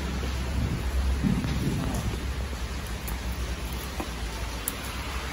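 Heavy rain pours steadily in a dense, close hiss, heard from under a roof, with a faint low rumble beneath and no clear talk.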